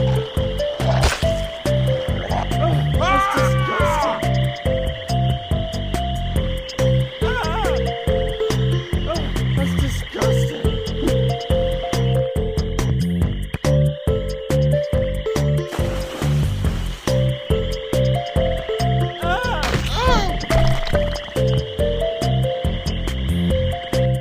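A frog croaks repeatedly in the video game American McGee's Grimm, a steady pulsing chain of throaty calls over a looping musical game backdrop, with occasional higher chirps and swells.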